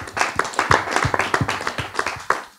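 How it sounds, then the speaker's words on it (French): A crowd claps at a startup pitch evening in Aix-Marseille, with dense overlapping handclaps forming steady, energetic applause for a few seconds, near and fairly loud. "On peut encore vous applaudir Bravo. Très fort."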